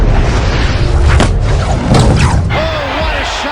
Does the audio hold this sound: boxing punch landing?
yes